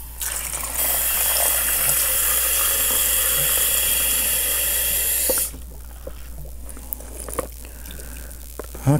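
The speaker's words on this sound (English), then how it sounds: "I'll try to get some hot water into here" Hot water runs from a tap into a home-brewing vessel for an Irish red ale kit, a loud, steady hissing rush that stops abruptly partway through, followed by scattered clinks and handling noises.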